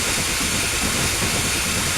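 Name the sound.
steam locomotive hissing in video game Railworks 3 Train Simulator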